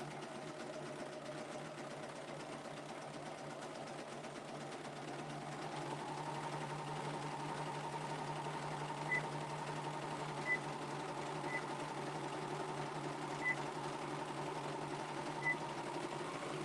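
A serger running steadily while sewing a fine rolled edge stitch, its motor holding a continuous mechanical whir that speeds up partway through, with a few faint regular ticks, close and fairly quiet.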